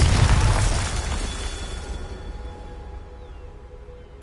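Bombarda explosion spell in a Harry Potter video game: a single heavy, deep blast right at the start, its rumbling tail slowly fading over a few seconds.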